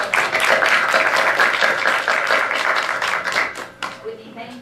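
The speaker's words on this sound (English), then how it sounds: "All right, round of applause" A meeting audience claps together in a steady round of applause at a city arts meeting, dense and sustained for about four seconds before thinning into a few scattered claps.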